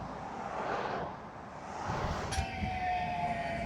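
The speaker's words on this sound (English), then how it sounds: "Across the road's the tram stop. Bit noisy, very busy." A tram rumbles past a busy tram stop in Tallinn near Kadriorg in the morning, a steady rolling roar with a brief squeal and a sustained tonal whine as it moves through.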